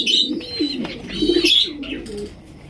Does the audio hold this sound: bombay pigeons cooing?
yes